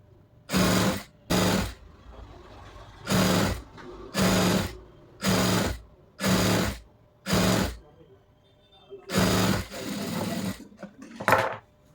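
Sewing machine stitching folded frock fabric for a frill, running in about eight short bursts of rapid mechanical whirring separated by brief pauses, close and clear.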